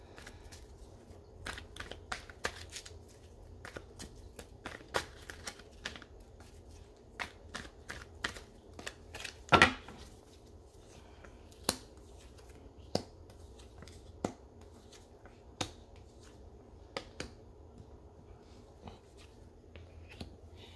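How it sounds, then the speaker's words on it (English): Tarot cards being drawn and shuffled at a reading, a long run of crisp, irregular snaps and flicks of card stock, close and fairly quiet, with one louder slap midway and no voices. "So, we can just draw a few more cards"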